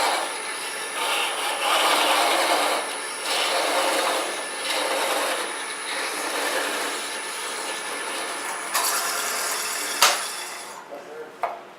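Parting tool cutting into wood on a lathe while turning a stump box, a steady scraping hiss that rises and falls in pulses as the tool works back and forth, with a few clicks near the end.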